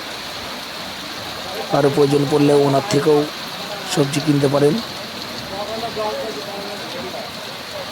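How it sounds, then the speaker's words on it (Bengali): Heavy rain pours down steadily as a dense, even hiss at a roadside vegetable stall at Hauliya crossing, with someone speaking over the downpour in two stretches. "এত জোরে বৃষ্টি হচ্ছে"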